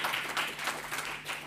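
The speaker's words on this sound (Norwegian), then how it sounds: "Gi dem en god, skikkelig applaus" Brief applause from an audience at a Norwegian debate event on biotechnology research innovation, a dense burst of clapping that holds at moderate loudness throughout.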